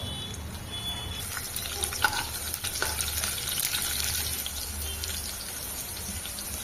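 Chopped onions sizzle in hot oil for a masala brinjal curry, a steady close hiss with a few light clinks of stirring throughout.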